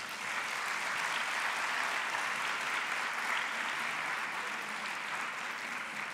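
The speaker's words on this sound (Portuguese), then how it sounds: "é com um aplauso para vocês próprios" Steady audience applause fills a Lisbon hall at a dentists' honour pledge ceremony, an even roar of many hands clapping with no break and no talking over it.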